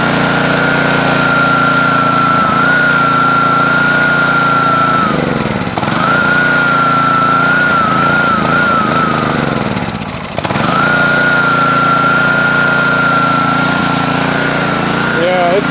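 Husky HU80722 pressure washer's small petrol engine running lean on full choke, droning steadily up close with a whiny tone that sags and hunts twice before recovering.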